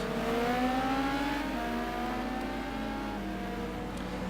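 A Dodge Viper race car engine in a sim racing game at Kyalami, a sustained loud high-revving roar with harmonics sweeping up through gear shifts, continuous and close.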